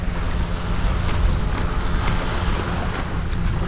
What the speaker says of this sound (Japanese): 波の音も相まって全く聞こえへん。